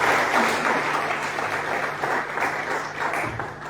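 A church congregation applauds for the Lord at a worship service, steady dense clapping with cheers filling the room from start to finish.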